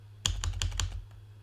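A quick, quiet burst of about five evenly spaced keystrokes on a computer keyboard, then stillness.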